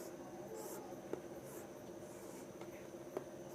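Pen drawing a geometry figure on paper, a faint, steady scratching with a couple of soft taps, quiet and close with no talking over it.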